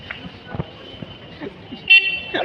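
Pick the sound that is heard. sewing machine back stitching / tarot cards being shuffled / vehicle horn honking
vehicle horn honking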